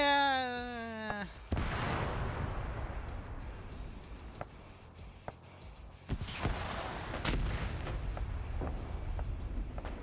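Anti-tank weapons firing during a large multiplayer Arma PvP battle, with sharp booming shots and crackling explosions over a continuous background of distant gunfire, preceded by a brief rising electronic tone.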